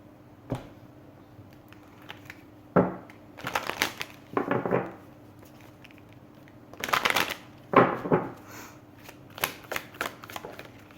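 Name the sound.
shuffling tarot cards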